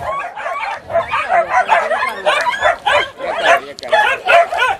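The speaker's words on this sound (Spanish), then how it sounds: "No sé si puedes enfocar a los perros." A pack of many dogs keeps barking in fast repeated bursts nearby, a dense, loud chorus of overlapping yaps filling the whole stretch.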